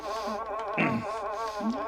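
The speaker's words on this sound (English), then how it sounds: "Them other bugs, or beetles or whatnot, are biting my legs too." Insects such as flies or beetles buzz steadily close by, a continuous droning hum with wavering pitch, swelling once in the middle before settling back to a constant whine.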